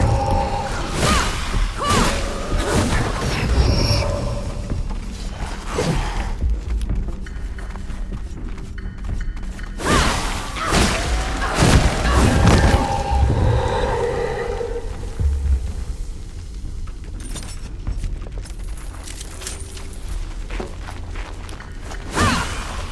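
Barrels blowing up amid a siege in the game Flintlock: The Siege of Dawn, heavy booming thuds and crashing blasts with rumbling debris, several loud bursts spread across the scene with whooshing movement between them.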